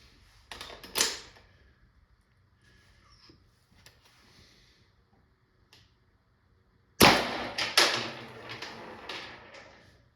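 An LL4D MCS 468 CO2 air gun fires burner kinetic rounds, a quick burst of sharp cracks and rattles at the start, quiet clicks in between, then a louder rapid string of shots near the end.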